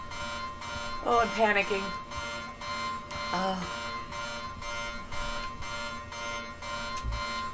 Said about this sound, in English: Oh, the alarm is freaking me out. I don't like the noise.